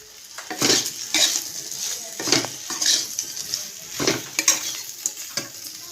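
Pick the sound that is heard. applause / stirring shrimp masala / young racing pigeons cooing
stirring shrimp masala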